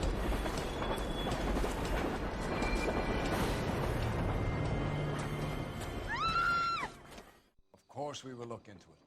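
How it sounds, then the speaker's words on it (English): A train rumbling past in the video game LA Noire, a loud, sustained rolling roar with a squealing tone that cuts off abruptly, after which a voice speaks. "I thought she was gonna get hit by that train."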